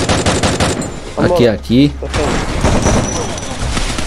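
Rapid gunfire bursts in a video game firefight, loud and close, with repeated shots before and after a brief gap, while someone talks over the shooting.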